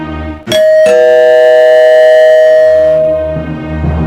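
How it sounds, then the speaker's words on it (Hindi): Two quick electronic chime strikes from a doorbell at the outside gate, then a long ringing tone that holds for a couple of seconds before fading out, loud and close. "तभी बाहर की घंटी बजी।"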